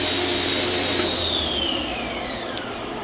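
The spindle of a 2003 Fadal VMC 3016L CNC machining center, a 7,500 RPM CAT 40 machine, winds down from about 5,500 RPM, its loud whine gliding steadily lower in pitch over a few seconds.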